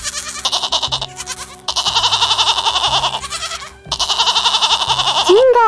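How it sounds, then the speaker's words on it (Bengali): Goats bleating in fright in a cartoon animal story, several wavering cries in repeated bursts, loud and close, with sung music behind them. "ছাগলগুলো ভয় চিল্লাতে থাকে"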